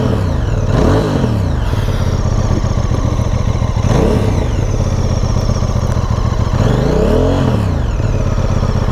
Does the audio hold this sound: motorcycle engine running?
yes